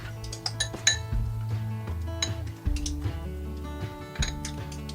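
A utensil stirs peanut butter in a bowl, giving irregular clinks and scrapes against the dish, close and fairly loud, with no voices.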